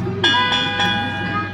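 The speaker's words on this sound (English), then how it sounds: "Bells." Bells ring on a Sesame Street kiddie train ride, several bright metallic strikes in quick succession with ringing overtones that linger over a steady electronic hum.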